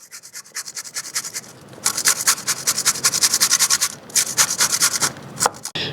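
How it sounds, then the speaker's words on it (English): Zucchini rasps against the large holes of a box grater in quick rhythmic strokes, a close, scratchy back-and-forth that speeds into a steady run with a short pause midway. "get yourself a really good grater, and I'm going with the biggest size, and we're just gonna go in and grate"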